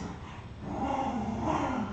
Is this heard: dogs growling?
yes